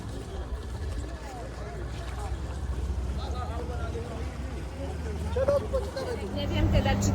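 Small boats head out toward the ocean off Zanzibar, a steady low engine drone and water rush mixed with wind buffeting the microphone, with voices talking faintly underneath.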